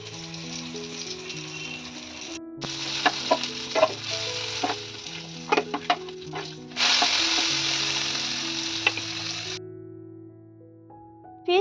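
Fish shallow-frying in a pan sizzles loudly in bursts, with crackling spatters and occasional stirring or utensil clinks, set against steady background music.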